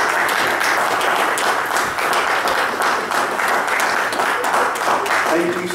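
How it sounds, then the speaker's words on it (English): A steady, full round of applause fills the space, dense hand clapping from an audience sustained at even volume throughout, with faint voices mixed in. "by just giving them a round of applause"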